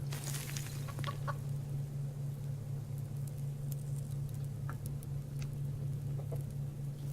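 Soft scattered clucking from a few chickens in the game Subsistence over a constant low hum, the clucks brief and fairly faint, with no voices.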